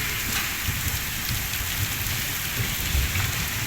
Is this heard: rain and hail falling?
yes